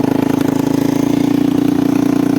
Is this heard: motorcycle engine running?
yes